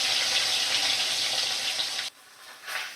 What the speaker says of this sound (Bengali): তো একটু সময় ধরে মাছের মাথা ভাজা হচ্ছে।